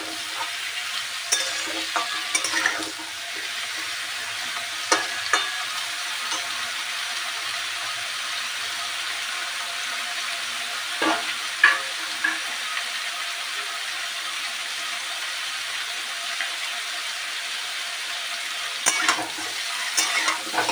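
Mixed vegetables sizzle steadily in a hot pan, an unbroken close hiss with occasional clattering spatula strokes as they are stirred, no talking over it.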